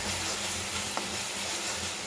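Spices and black pepper sizzle in hot oil in a pan while cooking dum aloo, giving a continuous close frying hiss with a faint stir partway through.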